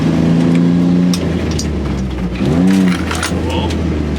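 An off-road vehicle on large, crazy tires rolling down a sidewalk, its engine droning close by with a small rise and dip in pitch while someone talks over it.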